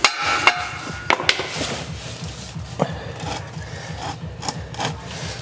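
Hammer blows struck against the underside of a rotten BMW E46 M3 during undersealing work, a series of sharp metallic knocks at irregular intervals over a constant low rumble, close and loud.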